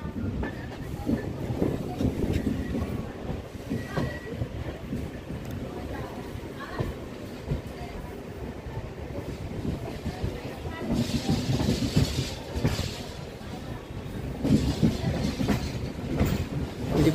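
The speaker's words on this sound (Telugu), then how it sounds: "మన ట్రైన్ అయితే డోర్నకల్ జంక్షన్ నుండి అయితే బయలుదేరిపోయింది" A MEMU passenger train departing Dornakal Junction toward Bhadrachalam Road rumbles steadily along the tracks, with continuous wheel and carriage noise heard from inside and some rhythmic clatter throughout.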